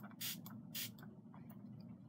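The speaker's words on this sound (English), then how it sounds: "Now I'm just going to spray this" Two quick hissing bursts of MAC Prep + Prime Fix Plus setting spray, close and soft, followed by a fainter puff.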